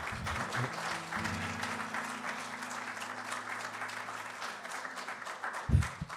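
A warm round of applause from the audience at The Troubadour for the acts during a live music set, with steady crowd clapping and a sustained low hum of sound-system tones beneath it.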